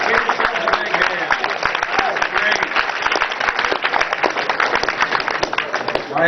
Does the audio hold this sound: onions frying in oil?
no